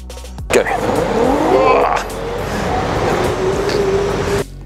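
Onsra Black Carve 1 and Black Carve 2 electric skateboards accelerating, a loud rising motor whine and rolling wheel roar that climb in pitch, pass close, then hold steady before cutting off.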